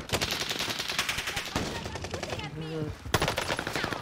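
Rapid automatic gunfire in Call of Duty rattles in dense, close bursts with a brief lull before shooting resumes, while voices talk briefly.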